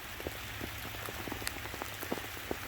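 Light rain falling outdoors by a pier, a dense patter of drops on hard surfaces with scattered distinct nearby drips, soft and steady with no voices.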